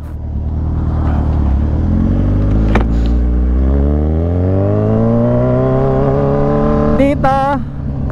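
Kawasaki Z1000 fitted with a quick shifter pulls hard through the gears, its engine note climbing in steady rising sweeps with brief clipped shift breaks, then a quick burst of rapid-fire rev pops near the end; someone speaks briefly over it.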